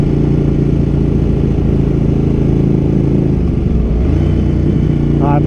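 A Ducati Panigale motorcycle engine drones loud and close during a clutch-in downshift, a steady heavy rumble that dips and wavers as revs fall, with wind noise throughout.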